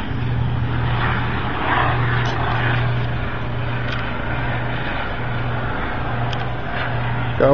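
A helicopter flies over Penn's Landing on the Philadelphia waterfront, a steady moderately loud rotor drone with a low pulsing hum persisting throughout, heard alone.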